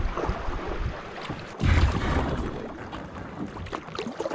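Canoe paddling on the Berg River in the Wabakimi wilderness, with steady water swishes and splashes around the hull under wind buffeting the microphone, close and fairly loud.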